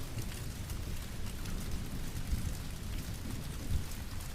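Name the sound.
heavy rain falling on a city street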